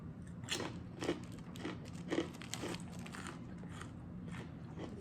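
A thin bamboo shoot cracker from a snack crate is bitten and crunched close to the mic in a series of quiet, crisp bites and chews.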